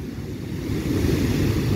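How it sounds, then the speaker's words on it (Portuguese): Rough, churning surf at Sununga beach in Ubatuba, a steady low roar of waves rolling in and crashing close by, mixed with wind buffeting the microphone, with no voices. "esse mar hoje totalmente furioso"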